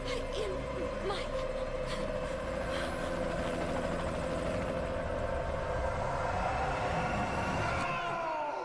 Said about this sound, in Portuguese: o outro helicóptero da Cypher, que estava seguindo Snake, acaba atirando uma RPG no helicóptero de Snake